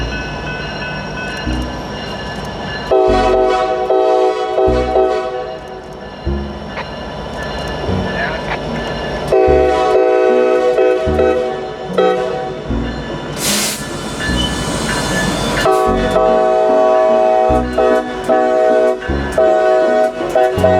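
A freight train works nearby, putting in its final cars, with a sustained horn chord sounding several times over the rumble and clatter of rolling railcars and a brief hiss.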